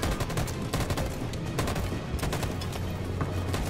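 Rapid bursts of gunfire from the final chapter of Detroit: Become Human form a loud, steady fusillade of closely spaced shots over a low rumble, with no talking.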